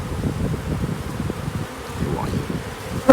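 Honeybees crowd over beehive frames in an open hive, their dense, steady buzzing humming close to the microphone, with a faint clunk at the end and no talking.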